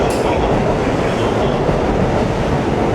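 A loud, steady rumble of a commuter train to Omiya rolling into a platform at Tokyo Station, with a continuous mechanical roar and faint high screech at the start.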